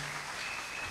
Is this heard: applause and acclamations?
yes